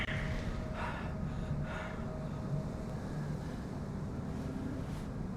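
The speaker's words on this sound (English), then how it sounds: "Someone's heavily breathing in the bushes." Heavy breathing from someone hidden in bushes in the Call of Cthulhu video game, a rough, airy gasping that runs steadily under a constant wind-like ambient wash.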